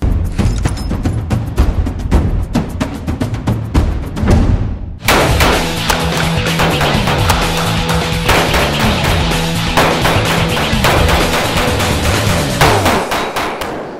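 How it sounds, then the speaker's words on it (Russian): Rapid pistol shots fired during an IPSC practical shooting exercise of 22 rounds at nine IPSC targets and four poppers, loud sharp cracks in quick bursts with a brief pause near five seconds, no talking. "Для начала мы будем стрелять упражнение, состоящее из 22 выстрелов"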